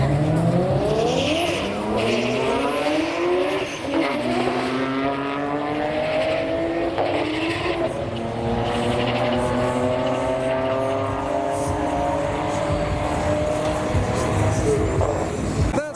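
A Nissan Skyline R32 and a Toyota Chaser race down a drag strip, engines roaring loud and close. Repeated rising revs and gear changes fill the run, with tire squeal over a constant wash of crowd and ambient noise.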